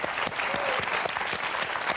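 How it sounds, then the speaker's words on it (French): Studio audience claps for contestants on the Motus word game show, a short burst of brisk, even applause with individual claps audible, with no speech over it. "je voudrais qu'on applaudisse Karine et Alain"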